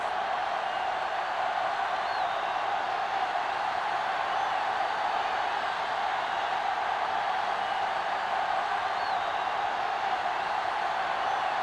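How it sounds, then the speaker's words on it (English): A stadium crowd in a football video game roars steadily at the season-opening kickoff, a dense, continuous wall of cheering that holds at a constant level throughout with no clear individual voices. "the crowd in full throat as we get this new season started with the kickoff"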